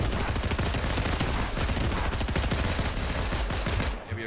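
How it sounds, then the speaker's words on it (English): Gunfire in the Fortnite battle royale game, with rapid, closely spaced shots fired continuously and loudly for about four seconds before cutting off abruptly. "Jump him with our pistols."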